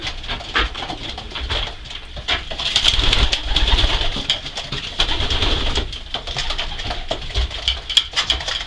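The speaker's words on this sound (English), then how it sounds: "There's one of Louis' birds" Pigeons coo steadily inside a pigeon loft, their soft throaty calls overlapping close by amid rustling, fluttering and pattering movement.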